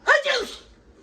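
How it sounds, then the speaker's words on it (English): A single sudden sneeze, sharp and fairly close, with a quick breathy burst followed by a fading tail and quiet room noise. "It's very hard to do to fake a sneeze in theater."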